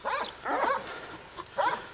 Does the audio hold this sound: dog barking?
yes